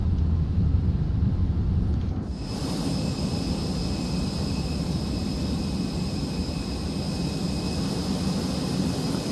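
Airliner pushback in the Fenix flight simulator game: a steady, loud jet-engine and ground-power drone with a constant high whine, shifting slightly early on and then holding evenly throughout.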